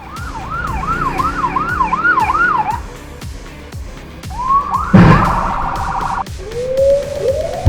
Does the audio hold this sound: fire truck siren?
yes